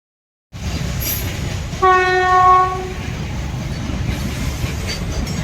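A train rumbles past close by, steady and loud, with a long blaring horn sounding for about a second partway through.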